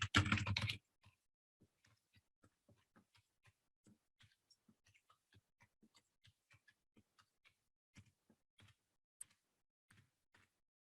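Keystrokes on a computer keyboard entering a long master password, a steady run of soft, evenly spaced clicks close by with no talking, following a brief louder burst at the start.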